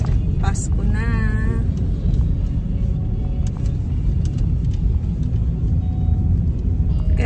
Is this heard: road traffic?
yes